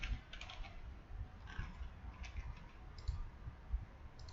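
Someone types on a computer keyboard, a soft, steady patter of key clicks with a few sharper taps, close but faint against a quiet background.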